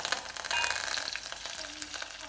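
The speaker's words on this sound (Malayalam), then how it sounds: "ഞാനിവിടെ കുറച്ച് വെളിച്ചെണ്ണ ഒഴിച്ചിട്ടുണ്ട് ചട്ടിയിലേക്ക് ഇതിലേക്ക് ആവശ്യമായിട്ടുള്ള കടുക് ഇട്ട് കൊടുക്കാം കടുക് പൊട്ടുന്നതോടെ" Mustard seeds splutter in coconut oil in a pan, a soft, continuous sizzle scattered with quick crackling pops, close and fairly faint, with no talk.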